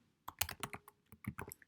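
Short burst of typing on a computer keyboard, about a dozen quick, close, crisp key clicks in an uneven rhythm, with no talking.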